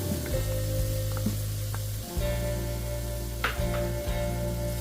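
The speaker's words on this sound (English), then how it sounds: "Saute your veggies for a few minutes until they get soft." Diced onion, sliced celery and chopped green pepper sizzle in a roux for gumbo, a steady close frying hiss broken by a few stirring scrapes.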